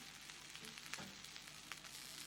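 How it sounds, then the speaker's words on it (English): Baked oats sizzle and fry in a hot pan, a steady close crackle with a few sharper pops, heard alone with no talking. "we've got the baked oats with a bit of ASMR sizzling"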